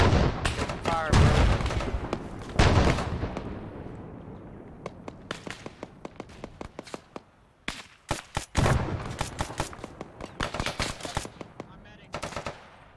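Gunfire in the video game Arma III: loud, rapid automatic bursts and single shots crackling throughout, with short pauses between volleys.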